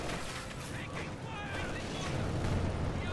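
Gunfire and artillery in the Company of Heroes 2 video game, with muffled booms and shots rumbling at a moderate, fairly quiet level over a few seconds, mixed with a busy battle din.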